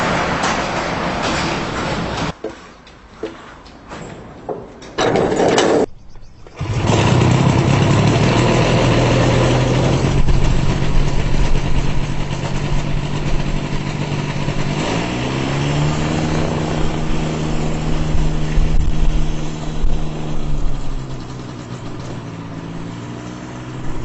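A homemade ultralight plane engine runs loudly and steadily, with a droning low hum whose pitch shifts upward partway through after a few brief dropouts near the start.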